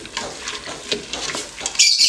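Chopped onion, parsley and bok choy frying in a pot, with a soft sizzle broken by quick spoon scrapes and light clinks, ending in a brighter hiss.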